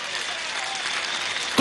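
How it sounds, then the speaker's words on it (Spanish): A crowd at a Venezuelan political march against OEA interference applauds for Delcy Rodríguez, with a brief, steady wash of distant clapping and a sharp louder sound right at the end. "Pido un aplauso para Delcy, mujer valiente"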